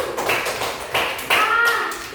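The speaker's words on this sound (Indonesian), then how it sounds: "Tepuk tangan dulu" A classroom of students claps their hands, a short burst of three or four rough, crowded bursts of clapping over a couple of seconds.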